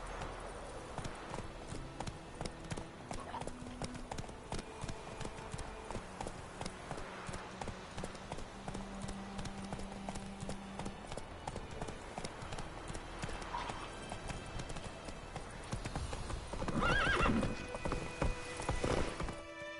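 Roach the horse from The Witcher 3 gallops in steady, rapid clip-clop hoofbeats that run throughout, with a brief whinny near the end and game music and sounds layered beneath.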